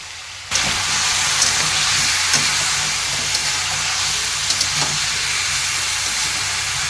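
Potato, radish and eggplant pieces tipped into hot oil together, a sudden loud hiss that settles into a continuous close sizzle with a few small pops and scrapes, no voices.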